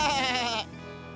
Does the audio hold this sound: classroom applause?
no